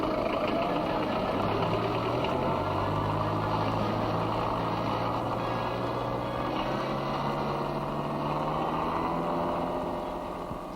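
A diesel Land Rover engine running steadily, a loud, close, continuous rumble with a knocking idle character and a slight pitch change as it revs, with no voices.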